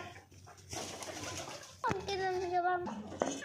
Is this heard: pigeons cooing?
yes